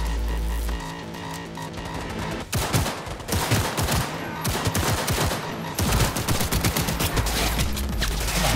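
Dense automatic gunfire and rapid shots from a large gun in the video game Cyberpunk 2077, loud sustained bursts with brief gaps, dropping out for a moment midway before resuming.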